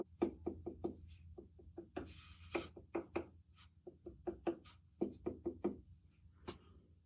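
A clay pot is tapped repeatedly with a hard tool while being trimmed to judge wall thickness, giving sharp, resonant knocks in quick irregular runs with short pauses, close and clear with no talk.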